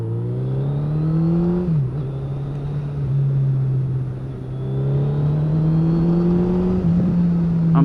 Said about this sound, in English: So good being back on a sports bike again